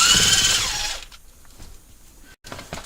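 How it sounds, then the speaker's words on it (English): A T25 Torx screw is driven out of the steering column of a 2013-2016 Ford Escape with a power driver, giving one loud whirring burst for about a second before quieter clicks and handling noises. "we're going to use our T25 Torx, and we're going to remove the Torx from the steering column"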